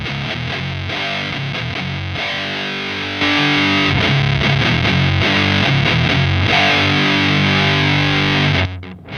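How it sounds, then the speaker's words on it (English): Electric guitar through a Lichtlaerm Audio Ritual distortion pedal, playing loud, fuzzy, over-the-top broken chords with sustained saturated tones and choppy rhythmic stabs, growing slightly louder midway before cutting off abruptly. "You can get some really cool, fuzzy, over-the-top, broken sounds here"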